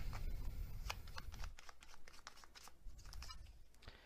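A deck of tarot advice cards is shuffled in steady riffling bursts, a soft papery flutter close by, with no voices heard.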